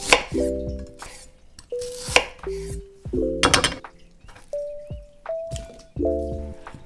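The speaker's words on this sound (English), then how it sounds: "Slice the onion into a big slices." A knife slicing an onion into big slices on a board, seven or eight separate cuts each ending in a firm thunk, evenly spaced and close up.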